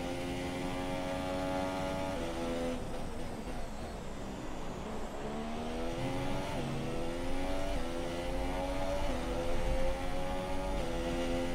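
Formula 1 race car engine in the F1 2017 racing game at the Australian circuit, screaming at high revs and shifting up and down through gears continuously, loud and close with no talk.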